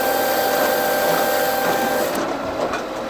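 Blockbuster firewood processor saw at very low throttle cutting through a log, a steady, loud mechanical whine and buzz that holds constant, then eases slightly near the end as the cut finishes.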